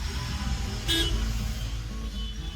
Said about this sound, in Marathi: हलकीशी ट्रॅफिक आहे